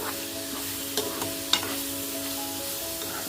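Cabbage curry sizzles steadily in a pan while a spoon stirs it, with a few soft scrapes and knocks over the continuous frying hiss.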